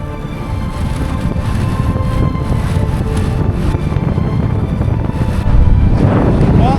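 Loud, steady wind buffeting the microphone on a bike trip in western Canada near Jasper National Park, a deep continuous roar that swells slightly near the end.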